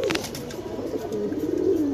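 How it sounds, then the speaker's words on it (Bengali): Racing pigeons in a loft coo softly and continuously, a low throaty burbling from several birds close by, with no talk over it. "3টা কবুতর দেখছেন কত সুন্দর ডাকাডাকি করতেছে কবুতরগুলো"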